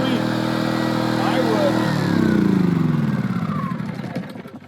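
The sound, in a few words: Erayak 4500P inverter generator running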